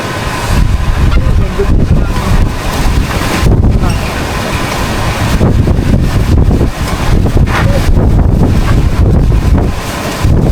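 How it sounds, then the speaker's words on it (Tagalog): Strong wind buffets the microphone in loud, continuous gusts, a roaring rumble that stays heavy throughout. "Lakas talaga ng hangin eh."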